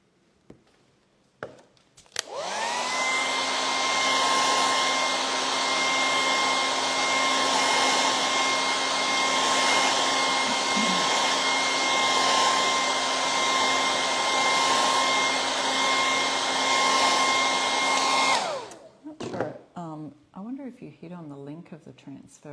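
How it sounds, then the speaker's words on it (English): A loud, steady heat dryer roars continuously for about sixteen seconds drying stencil paint, then cuts off, followed by brief handling noises. "we'll hit that with the dryer"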